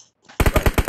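Rapid automatic gunfire from the PUBG video game erupts after a near-silent gap, a close, loud burst of about six quick shots in steady rhythm.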